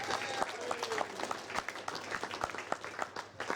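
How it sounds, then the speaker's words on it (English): Audience applause for the singles finalists at a national tournament, moderately distant clapping with scattered sharp claps and crowd noise, sustained throughout. "Come on, big round of applause for these finalists."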